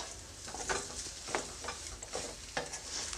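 Aloo paratha potato filling is stirred in a pan with garam masala and amchur powder, giving repeated soft scraping strokes over a faint sizzle, close by and moderately quiet.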